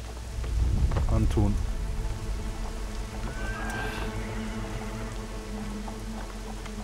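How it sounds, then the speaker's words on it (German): Steady rain in Assassin's Creed 3, a dense continuous hiss of falling drops with a low rumble early on, under occasional game sounds and a brief spoken voice. "Der Regen sieht aber schon komisch aus."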